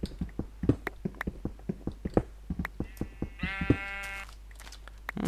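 A sheep in the Minecraft video game gives one drawn-out, wavering bleat while steady clicking footsteps and block sounds tap along in the background.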